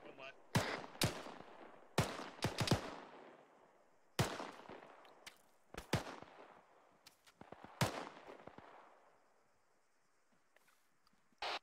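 Rifles fire during army training, a scatter of sharp, loud cracks coming singly and in quick pairs, each trailing off in a short echo across an open range, with quiet gaps between shots.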